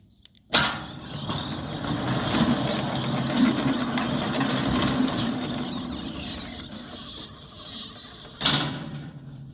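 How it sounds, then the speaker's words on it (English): A Centurion D6 Smart sliding gate motor runs at a residential install in Montclare, Johannesburg: a sudden start, then a steady loud mechanical whirr and rattle of the gate travelling for about eight seconds before a clunking stop. "let's quickly test this gate motor."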